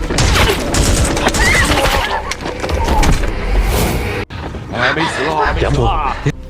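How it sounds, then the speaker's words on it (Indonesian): Rapid bursts of gunfire, including sniper shots, crackle through a loud, busy film action scene, with shouting voices and crashing noises mixed in throughout. "ia berhasil menembak Tuan Gela yang kemudian disusul dengan tembakan dari Paman Liang"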